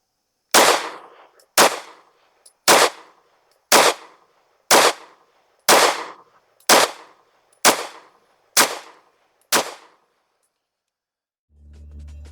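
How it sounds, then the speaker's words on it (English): A pistol loaded with 115 grain CCI Blazer rounds fires a ten-shot group, sharp loud single reports spaced about one second apart, each with a short echoing tail, followed by silence and a faint low rumble at the end. "Let's just shoot a 10-shot group at the bottom left. This time we got the 115 grain CCI Blazers loaded up."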